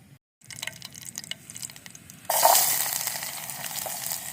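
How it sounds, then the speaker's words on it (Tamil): Cooking oil poured into a pan on a terrace camping setup: a short pause, a light trickle and clatter, then a sudden louder hissing sizzle that holds steady to the end, no talking. "சமைக்க ஆரம்பிக்கலாம் நம்ம ஆயிலை ஊற்றிக்கலாம்"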